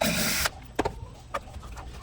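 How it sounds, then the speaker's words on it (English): Power driver backing out the mounting screws of a guitar bridge, a dense whirring burst for about half a second, followed by a few faint clicks and small handling knocks, close and alone. "go ahead and unscrew the 3 mounting screws"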